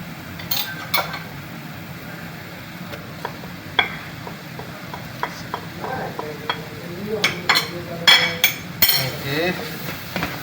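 Garlic and ginger are stirred into a pan of cooking chicken gizzards, giving a low sizzle under scattered scraping and clinking strokes that grow busier toward the end.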